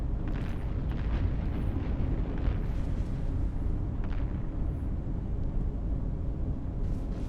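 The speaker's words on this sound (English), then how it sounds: "These missiles they keep hitting me with, though, they're getting me pretty good" Missile impacts battering a ship in the space game EVE Online, heard as a dense, unbroken roar of rumbling explosions that stays loud and steady throughout.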